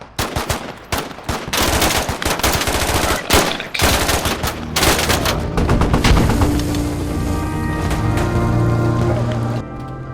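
Dense automatic gunfire and rapid rifle bursts from a firefight in the Unreal Engine 5 version of the military shooter Squad, loud and continuous, with sustained rattling volleys.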